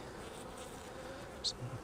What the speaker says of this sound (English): The bee trying to sting me.